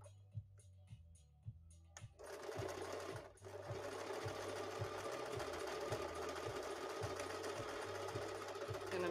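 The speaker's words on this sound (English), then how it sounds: "I'm sewing it back and forth a bunch" Sewing machine running steadily while stitching neon ripstop nylon for saddlebags, a few short bursts at first, then a continuous loud whir with a rhythmic low thump, sewn back and forth.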